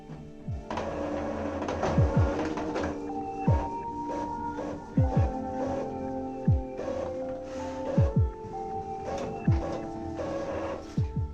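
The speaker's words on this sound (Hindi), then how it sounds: "हमारा जो प्रिंटर है वो बिल्कुल सही से प्रिंट कर रहा है।" An Epson L3150 inkjet printer runs a test page, its mechanism whirring steadily with repeated rhythmic clunks and sliding strokes, close and continuous throughout.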